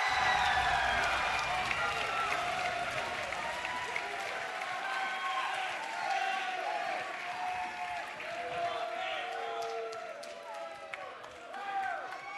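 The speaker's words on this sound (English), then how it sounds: "The Columbus Arena is packed, and they're on their feet applauding for Roy" A packed crowd at the Columbus Arena applauds and cheers on its feet during a Halo match at MLG Columbus 2010. Dense, sustained clapping and shouts fill the space while an announcer talks over them.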